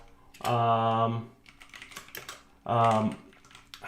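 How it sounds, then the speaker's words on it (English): Fingers typing on a computer keyboard during a Kubernetes app deployment session, a steady run of soft key clicks heard close under and between stretches of someone speaking. "And this is like the Bryan is typing Greek here"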